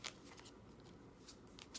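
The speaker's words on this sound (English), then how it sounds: "I'm going to shuffle them until I get a sign to stop." A tarot deck is shuffled by hand in a quiet room, with soft repeated riffling bursts of cards at irregular intervals and no voices.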